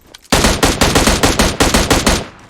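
Rapid automatic gunfire from PUBG Mobile, loud and close: about a dozen evenly spaced shots in a steady burst lasting roughly two seconds, alone with no talking.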